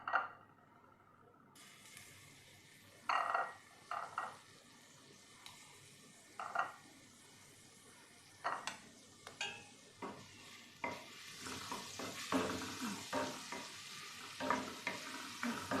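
Garlic hits hot oil in a pan and sizzles softly, while a utensil stirs and scrapes against the pan in repeated clicks and taps. The frying hiss swells toward the end.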